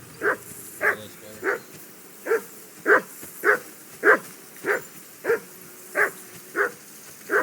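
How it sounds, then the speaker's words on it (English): In the medieval game Kingdom Come Deliverance II, a dog barks steadily, a dozen sharp, evenly spaced woofs at a moderate distance against a quiet outdoor background. "I assume you can hear that damn dog of yours barking."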